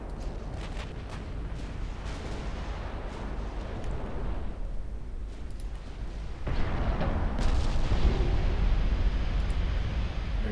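Naval guns fire in Ultimate Admiral Dreadnoughts, with distant booming salvos rolling under constant battle rumble, plus sharper reports and a louder, heavier stretch of gunfire toward the end; no one speaks.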